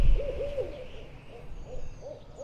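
A tawny owl hoots in a quiet woodland, a wavering call repeated several times at moderate distance with low background rumble and no speech.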